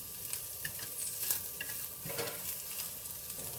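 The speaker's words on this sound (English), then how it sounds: "I'm sauteing some ground pork with my onions and peppers" Ground pork sautéing with onions and peppers in a pan, a low continuous sizzle broken by a few stirring scrapes and clinks, fairly quiet and nearby, no speech.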